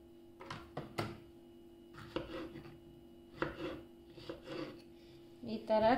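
Strawberries for jam are sliced with a knife on a board, giving a series of soft, close cutting taps in irregular bursts, with a light clink near the end.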